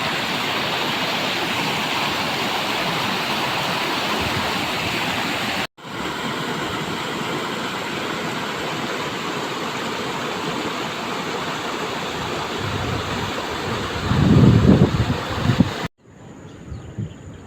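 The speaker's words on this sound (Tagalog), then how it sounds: "Lakas ng agos oh. Tubig." A strong river current rushes past, a loud steady roar of flowing water broken by two brief cuts, with a rumbling swell near the end before it drops away.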